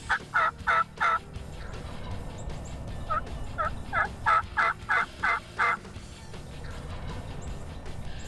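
Wild turkeys gobble repeatedly, a quick pair of loud calls and then a steady run of separate gobbles, fairly close over a low background rumble.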